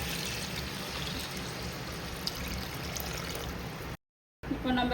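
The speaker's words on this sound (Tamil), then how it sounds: "இதால் 2 படி தண்ணி ஊற்றணும்" Water poured from a measure onto rice being cooked for biryani, a steady broadband splashing that runs continuously and loudly, briefly cut out near the end before resuming.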